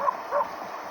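A dog kept indoors gives two short, close yips with a whimpering edge in quick succession, then falls quiet.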